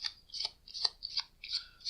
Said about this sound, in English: If you have a good overhand shuffle, which is this shuffle,